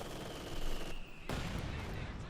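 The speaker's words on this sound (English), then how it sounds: "Further mortar fire there." Mortar and gun fire in Company of Heroes 2, a WWII strategy battle: dense crackling volleys, a short gap, then a heavy impact followed by sustained rumbling fire.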